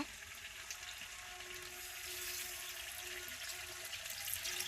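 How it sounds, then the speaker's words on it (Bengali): Water pours into a pot of desi duck meat that has been slow-fried in spices, a steady moderate splashing and running stream with no talk. "এখন জল দিয়ে নিব"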